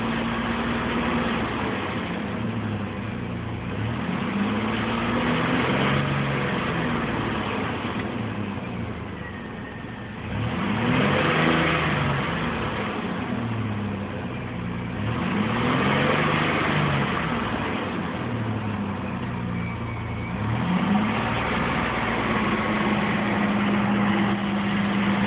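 A 2002 Chevy Blazer 4x4's engine idles steadily with an RPM fault, its pitch swelling and falling as the revs rise a few times to 2,000–3,000, with no voices.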